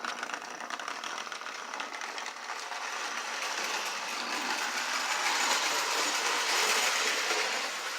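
Lionel model steam locomotive running on a home layout, a steady close rumble and rattle of wheels on track that builds slightly louder as it passes, with no talking.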